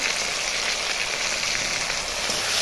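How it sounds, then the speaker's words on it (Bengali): Spice paste of ginger, cumin, chili and tomato with potatoes sizzles steadily in a hot pan while being sautéed for a fish curry, a bright, even frying hiss with no talk. "মশলাটা দিয়ে এখন ভালো করে কষাবো আমি"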